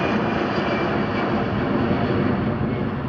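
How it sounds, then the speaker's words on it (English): A Boeing C-17A Globemaster III with four Pratt & Whitney F117 jet engines at an airshow, giving a loud, continuous broadband roar that stays steady throughout without any voices. "a complete change of pace now in the form of the Boeing C17A Globemaster III"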